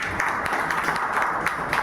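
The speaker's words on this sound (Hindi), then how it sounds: "हमारे ग्रेट अपलायर डॉक्टर सत्यनारायण मंडल जी के लिए जोरदार तालियां" Audience applause rings out at a meeting in Rosera, a steady wash of many hands clapping at moderate loudness with no talk over it.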